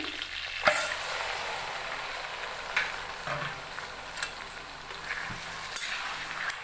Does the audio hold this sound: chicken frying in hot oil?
yes